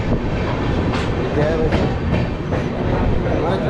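The Howrah–Amritsar (Punjab) Mail pulls into platform 3 at Yamunanagar Jagadhri station in Haryana, a loud continuous rumble of rolling coaches with rhythmic wheel clatter throughout.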